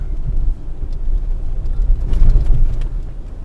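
A Suzuki Grand Vitara V6 engine rumbles steadily while the SUV crawls off-road, a loud, continuous low drone with slight swells in intensity.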